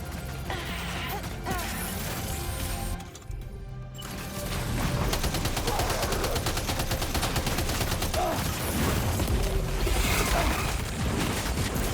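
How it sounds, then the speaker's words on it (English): Sustained, dense gunfire from a firefight in the PS5 video game Death Stranding 2: On the Beach, with rapid overlapping shots and a brief lull before the barrage resumes even louder. "Open fire."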